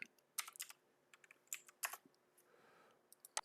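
Quick bursts of keystrokes on a computer keyboard while entering code, irregular clusters of clicks close up and fairly quiet, with short pauses between them and no talking.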